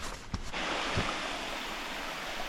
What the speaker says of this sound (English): The whole trail is a waterfall.